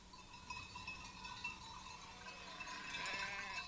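Sheep bleat faintly and at a distance across a Sardinian coastal pasture, thin wavering calls over a steady bed of outdoor ambience with no voices.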